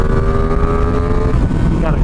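A Ducati Streetfighter V2 motorcycle engine revs hard, its pitch climbing and falling, loud and close, with wind rushing across the microphone.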